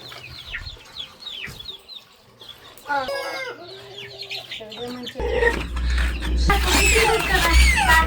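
Hens cluck in bursts with bird chirps, then a louder stretch of busy clucking and crowing over steady low rumble near the end.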